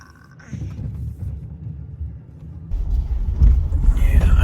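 A car interior rumbles at low speed while driving around a parking lot, its engine and road noise swelling louder toward the end.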